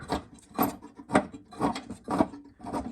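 Screws being turned out of a Philips light fixture, rhythmic scraping, rasping strokes about twice a second, close and moderately loud with no talk.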